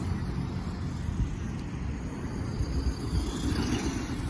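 A Tamiya Konghead G6-01 six-wheeled RC car drives through dust, giving a steady low rumbling drone with a faint whine mixed in, continuous and moderately distant.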